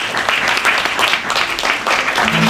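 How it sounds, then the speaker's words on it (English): Audience applause fills the room, a dense, steady burst of clapping that carries on without pause for the whole stretch. "it deserves a round of applause"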